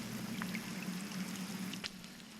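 In the video game Scanner Sombre, a steady spray of water hisses and pours continuously, with a few brief droplet splashes and no talking.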